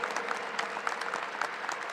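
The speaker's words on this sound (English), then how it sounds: "Please applaud these students for their commitment to serving our country." Audience applauding at a 2021 high school graduation at Peoria High School, a steady wash of many hands clapping at moderate distance, continuous and even with no voices on top.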